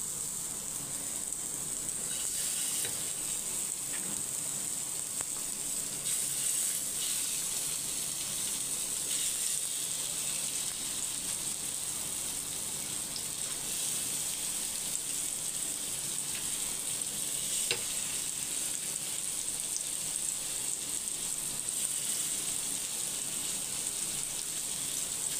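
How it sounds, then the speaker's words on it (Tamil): Sardine pieces frying in hot oil in a pan while being mixed, giving a steady, dense sizzle with crackling that holds evenly throughout, close and fairly quiet, with no talking. "இப்போ வந்து எண்ணெய் ஊற்றி வச்சுருக்கேன், மீனை சேர்த்துடலாம்."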